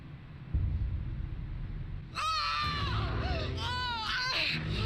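A woman's shrill, wavering scream rises over a low rumbling drone in a nightmare scene from the TV series Fringe, breaking into repeated anguished cries across the last few seconds.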